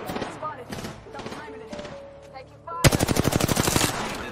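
Automatic weapon fire in a battle royale video game: a few scattered shots under a player's talk, then a loud, rapid burst of machine-gun fire that rattles on for over a second.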